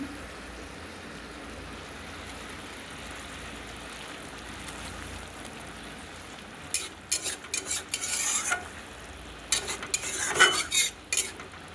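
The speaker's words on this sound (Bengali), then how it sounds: "এটা দিয়ে দিলাম পোস্ত বাটাটা আর এতে এই বেরেস্তার হাফ রেখেছি আর হাফ এতে দিয়ে দিচ্ছি" Fried onions (beresta) added to poppy seed paste in a pan bring a soft background sizzle, then a run of clinking, scraping stirs of a utensil against the pan near the end, with no talk.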